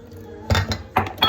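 A whisk works flour into milk batter in a bowl, giving a few quick, close metallic clinks and scrapes against the bowl's sides.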